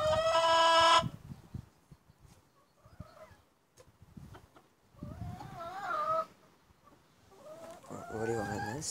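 Chickens cluck and a rooster calls around a porcelain crossbred hen in a poultry yard. The calls come in scattered, fairly faint bursts with one louder crow-like call at the start.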